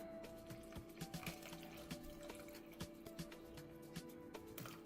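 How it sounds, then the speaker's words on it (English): Water poured into a pan of homemade stuffing already coated with seed oil, a soft continuous liquid trickle and sizzle with scattered small clicks and taps, fairly quiet and steady throughout. "And we're going to add water."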